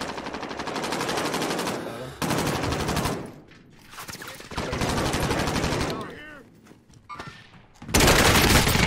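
Bursts of automatic gunfire in Call of Duty Warzone, loud and close, come in long sustained volleys separated by brief quieter gaps, with a final heavy burst at the end.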